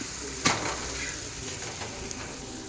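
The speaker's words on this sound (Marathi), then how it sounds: "टाकते कढीपत्ता" Curry leaves hit hot oil in a home kitchen pan with a sharp crackling burst, then settle into a steady, close frying sizzle and hiss with a few small pops.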